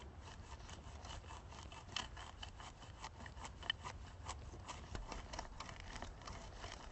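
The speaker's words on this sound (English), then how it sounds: "grab yourself a rake, scrape it up" Rake scraping across lawn soil during fall lawn care, a steady close rough rasping with repeated strokes and a few sharper scratches, alone.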